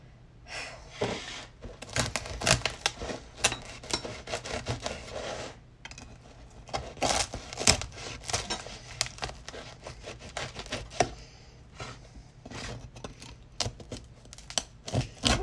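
A knife saws into a crusty homemade sourdough loaf, giving a run of close, dry crackling and rasping crunches with short pauses between strokes.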